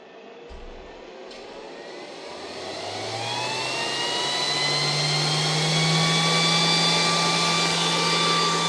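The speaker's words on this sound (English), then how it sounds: "It's very important to start the fans before you start your compressor." Cooling fans for a PCP air compressor spin up from a click and whine steadily louder, a rising whirring hum with high tonal whistles that settles into a continuous close drone.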